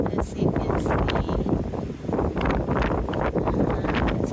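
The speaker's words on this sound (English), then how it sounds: "it's very windy today." Strong wind buffets the microphone outdoors in a garden area beside a fence at a rental property, a loud continuous rumbling roar with gusty surges throughout.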